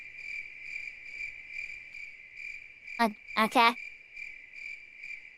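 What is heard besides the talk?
crickets chirping in a forest, from video game Lunar 2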